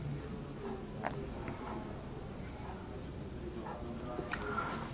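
A pen scratches softly on paper while an accounting ledger entry is written, faint intermittent strokes over a low steady background hum.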